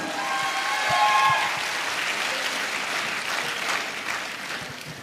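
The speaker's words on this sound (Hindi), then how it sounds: "आप सभी के लिए एक बार जोरदार तालियां" An audience at an AWPL business event in Nalagarh breaks into loud, sustained applause, a thick wash of clapping that swells early and holds steady throughout.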